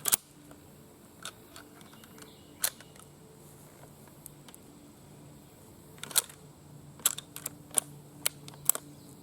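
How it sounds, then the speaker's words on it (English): Bolt of a Japanese Type 99 Arisaka rifle worked by hand, snagging as it moves: scattered sharp metallic clicks and clacks, one near the start and a tight cluster toward the end, close and fairly quiet over a low background hum. "Seems like the bolt is hitting a snag or something there"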